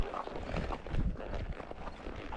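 Horse trotting on an endurance-riding trail, a close, steady rhythm of soft hoofbeats on ground, heard alone without talking.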